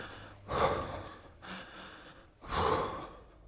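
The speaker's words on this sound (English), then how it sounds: "I can't believe how loud the breathing is." Heavy, loud character breathing from the Peter Jackson's King Kong video game comes as three drawn-out gasping breaths, close and breathy, with quieter pauses between them.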